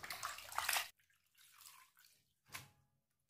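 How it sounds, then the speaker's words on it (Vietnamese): Soaked bamboo shoots are washed in water, with splashing and sloshing in short bursts and pauses between them, close and moderately quiet. "bây giờ mình sẽ vớt ra và rửa lại thật nhiều lần với nước các bạn nhé"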